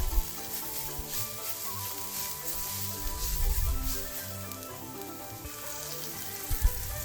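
Sliced onions, capsicum, green beans and carrots sautéing in hot oil for chow mein give a close, continuous crackling sizzle with occasional stirring scrapes and low thumps, with no talk.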